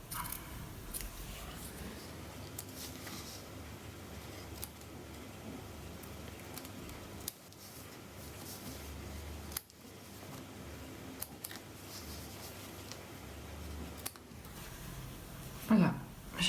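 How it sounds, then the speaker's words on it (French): Small scissors snip notches along the fabric seams of a sewn bag, a run of quiet, close clicks and cuts through the clip with a few louder taps near the end. "je vais prendre mes petits ciseaux, je vais cranter tout ce que je peux là au niveau des coutures"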